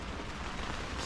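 Brief steady hiss of rain falling, a dense wash of droplet noise with no voices.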